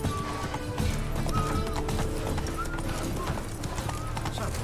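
A horse gallops in the video game Witcher 3 with rapid, continuous clip-clop hoofbeats and occasional snorts and whinnies, with game voices and effects mixed in underneath.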